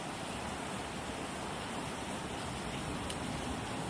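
Steady rain pours down outdoors, a dense, even hiss of falling drops that holds at the same level for the whole stretch with no voices over it.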